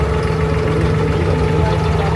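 A Dubai RTA boat engine runs at a steady low idle, close and loud, with a constant rumbling drone and no voices.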